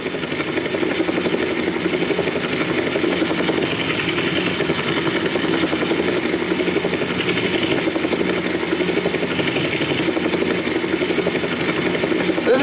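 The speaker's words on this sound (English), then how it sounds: "I'm doing a helicopter takeoff." A helicopter taking off in Grand Theft Auto: San Andreas, rotor thumps and turbine whine in a steady, loud drone that stays constant throughout, sounding close and synthetic.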